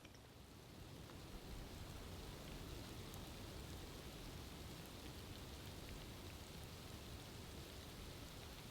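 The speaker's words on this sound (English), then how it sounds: "it's a little bit of sleet and freezing rain all at the same time" Sleet and freezing rain falling steadily at midnight during an ice storm outside an off-grid toy hauler cabin, a dense, even hiss of pellets and drops that holds constant throughout with no voices.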